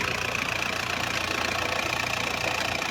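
A pickup truck engine idles steadily with a continuous mid-pitched mechanical hum and faint rattling knock, close and even throughout with no talking.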